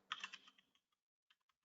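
Quick typing on a computer keyboard: a short burst of several close, crisp key clicks, then a pause and a few scattered taps, faint and without talk.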